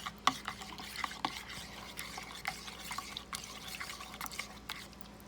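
A spoon stirs a yeast, sugar and water mixture for pizza dough, making soft scraping clinks against the bowl in a light irregular rhythm with faint liquid swirls, close and quiet, with no talking.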